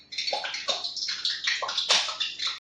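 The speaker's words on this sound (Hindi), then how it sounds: "थोड़ा सा और तेल में पानी गिर गया।" Hot cooking oil in a pan spits and crackles after water falls into it, a loud, close, continuous hissing sizzle with repeated sharper bursts.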